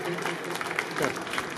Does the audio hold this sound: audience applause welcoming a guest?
yes